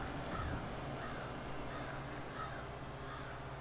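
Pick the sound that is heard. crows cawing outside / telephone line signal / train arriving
crows cawing outside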